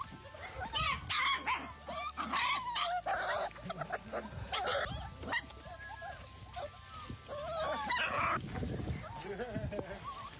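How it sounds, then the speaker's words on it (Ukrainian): Several puppies yip and bark in bursts, with whimpers and squeals mixed in, close by, while people talk over them. "на фронті на вас може напасти ціла зграя милих цуценят"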